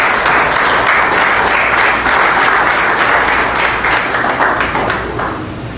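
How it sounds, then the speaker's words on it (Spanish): A church congregation applauds in worship, loud and dense, a sustained wash of many hands clapping that holds steady before easing slightly toward the end. "Denle un aplauso al Señor."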